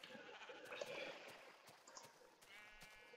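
Sheep bleating in the video game Minecraft: a couple of faint, short wavering bleats over quiet background sound, with no voices speaking.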